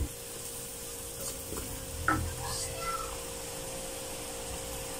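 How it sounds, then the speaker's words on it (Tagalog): Garlic fries quietly in a pan for butter garlic crab and shrimp, a soft steady sizzle with a few brief stirring scrapes and a short cat meow partway through. "luluto-lutuin lang natin yung ating garlic para mabango."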